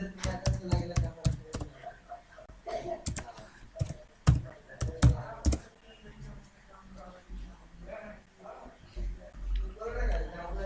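A web address being typed on a computer keyboard, with bursts of sharp, close key clicks in quick runs and pauses, while a person talks in the background.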